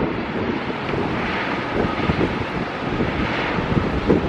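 Strong wind buffets a microphone outdoors at the Las Vegas Athletics stadium construction site, a continuous loud rushing roar with low thumping gusts scattered throughout.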